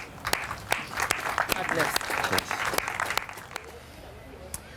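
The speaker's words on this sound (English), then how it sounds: "Give them a round of applause, ladies and gents." Studio audience applause on a Sky Sports show, a modest patter of claps with sharp individual hand strikes standing out, while a voice talks over it before the clapping thins out.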